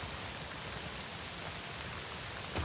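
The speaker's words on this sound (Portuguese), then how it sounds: "A chuva tá brava, hein?" Heavy rain in The Last of Us Part II falls in a steady, dense patter on surfaces, even and continuous, with a soft thump near the end and no voices.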